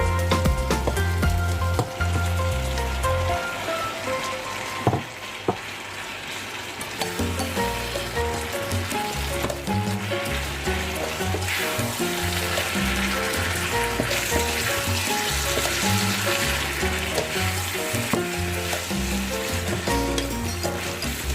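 Squid sautéing in a pan gives a continuous loud sizzle and crackle, with a sharp clatter around five seconds, then steady frying for the remainder, no voices.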